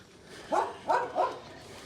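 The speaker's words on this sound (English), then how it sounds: "There's a doggy." A dog gives three quick, fairly soft barks in a row at a little distance, over faint background hiss.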